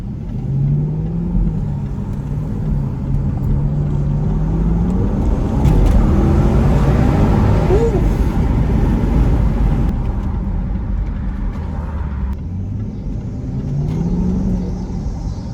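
Steady low engine rumble from a 2016 Range Rover driving in its normal drive mode, a continuous hum with gentle swells and no talk.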